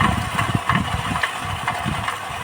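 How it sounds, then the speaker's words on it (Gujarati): A mini tractor engine with a sowing implement attached idles steadily outdoors, a close, continuous low rumble with even mechanical pulsing and no voices. "મિની ટ્રેક્ટરમાં વાવણું જોડી દીધું જો"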